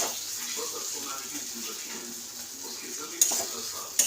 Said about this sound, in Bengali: এই যে কষা হচ্ছে